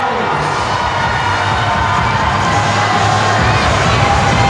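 A crowd cheers and shouts steadily at a short track speed skating final at the 29th SEA Games 2017. The roar stays loud and continuous, a dense wall of voices with no single voice standing out.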